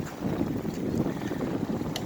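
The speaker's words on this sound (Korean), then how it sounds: "현재 한강에 강바람이 불고 있어서 시원하게 느껴집니다" Wind blows over the Han River on a hot day, a close, buffeting low roar against the microphone that stays continuous and fairly loud, with no talking.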